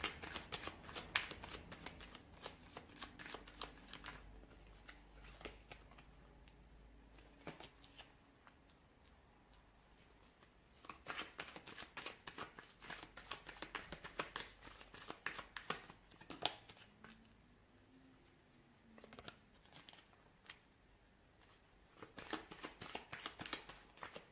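A large deck of tarot cards is shuffled up close in repeated riffling bursts separated by brief pauses, soft crisp card flutters with a faint low hum behind them.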